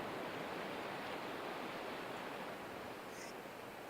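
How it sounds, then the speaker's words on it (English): Ocean waves wash softly and continuously in the background of a guided meditation, making an even, faint surf hiss with no breaks. "over the top of the sound of the waves"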